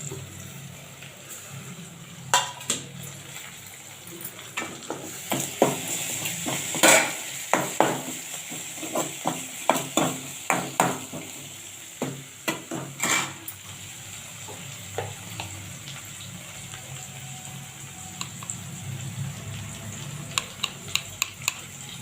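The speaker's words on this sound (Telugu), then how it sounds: "మరొకసారి లైట్గా కలిపేసి ఇప్పుడు కట్ చేసి పెట్టుకున్న టమాటా పండ్లు" Tomatoes being stirred into an egg curry in a pan, a steady sizzle of frying under repeated scraping and clinking strokes that cluster heavily in the middle, with no talking.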